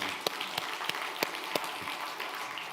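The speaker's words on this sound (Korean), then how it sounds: "박수도 한번 쳐봐, 박수." Church congregation clapping during a Korean Sunday sermon service, a soft crowd clap with a loose beat of sharper claps about three per second, heard from a distance.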